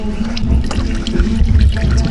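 Coolant drains from a Mercedes-Benz engine into a catch pan, making a steady splashing, trickling pour that runs on without a break, loud and close, with no talking.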